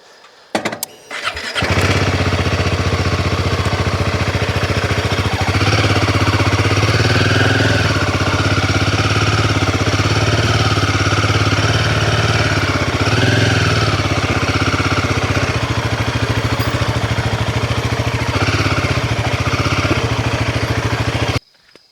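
A motorcycle engine starts and runs steadily at a loud, close rumble for about twenty seconds as the bike is moved into a camping site, with no one talking over it.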